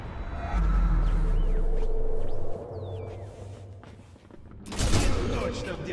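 A Mosin-Nagant sniper rifle fires in the Sniper Elite V2 video game, heard as a booming shot in the middle of the clip over game ambience and music.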